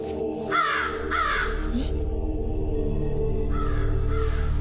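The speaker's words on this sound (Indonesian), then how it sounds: "Ibu dengar suara burung kedasi itu enggak, Bu?" Kedasi bird, a type of cuckoo, calling in two or three rough, harsh cries early on, set against a steady droning background, moderately loud and with no talking.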